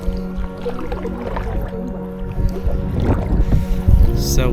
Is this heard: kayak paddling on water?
yes